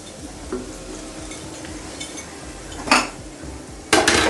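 Utensils scrape and clink against a pot in a few bursts, with a faint sizzle running underneath as fried onions and their oil are stirred into meat.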